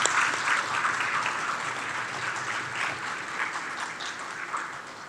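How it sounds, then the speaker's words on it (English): Audience applause at a town hall meeting: a steady wash of many hands clapping, moderately loud and sustained throughout, slowly easing toward the end, with no clear voices. "You can give them a round of applause,"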